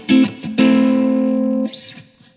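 A ukulele run through an overdrive/distortion pedal rings out in two strummed chords, a short stab then a long sustained chord that holds and cuts off, followed by a brief higher squeal and fading tail.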